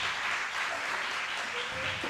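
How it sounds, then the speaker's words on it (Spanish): Church audience applauding three people, a steady wash of clapping at moderate volume lasting about two seconds, with a faint voice at the end. "¿Por qué no les damos un aplauso a los tres?"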